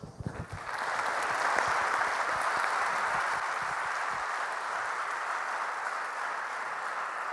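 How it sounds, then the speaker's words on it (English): Conference audience giving a round of applause to the panelists and session organizers, swelling quickly into sustained, dense clapping that stays full and steady to the end. "Could I ask you to join me in giving our panelists and also the organizers of this session a round of applause?"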